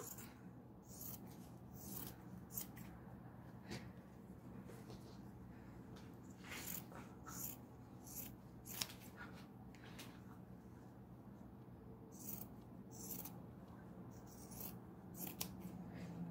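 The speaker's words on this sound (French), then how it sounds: "On va couper le triangle qui est là." Scissors cut corner triangles from fabric for a fabric storage box, giving soft repeated snips and rubbing handling noise close by over a steady low hum, with no talking.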